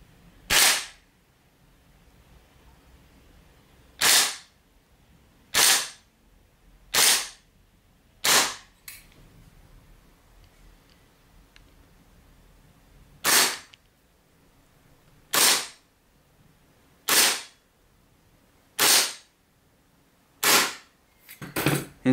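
A BFC HK416 airsoft rifle fires sharp single shots with no silencer fitted, ten or so distinct cracks spaced a second or two apart, loud and close against a quiet background.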